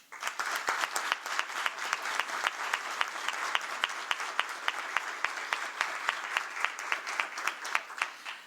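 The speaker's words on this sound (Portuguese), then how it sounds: "a quem peço uma salva de palmas" Sustained applause from a large audience at an official Brazilian government event honoring the first lady, a dense, steady wash of many hands clapping with some distinct claps standing out, even and moderately distant throughout.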